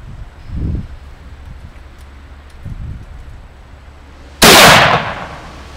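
A single sharp gunshot aimed at a can, cracking loudly and echoing outdoors after a stretch of quiet wind and faint rustling.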